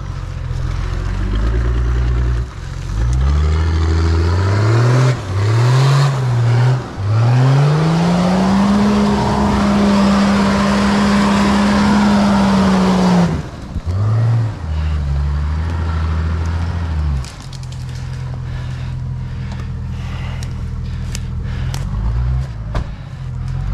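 Toyota Land Cruiser engine revs hard while driving through mud, with rising and falling revs, a long sustained high-rpm pull in the middle, and repeated bursts of throttle, loud and close throughout.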